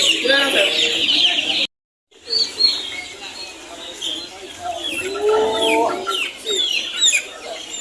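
Young gamefowl chickens at a gamefarm cluck and chirp close by in a continuous, busy chorus, broken by a short moment of silence.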